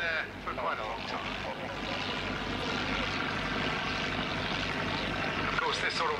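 A Fieseler Storch aircraft hanging almost motionless at very low airspeed, its propeller engine droning steadily and fairly loud throughout, with a voice talking over it.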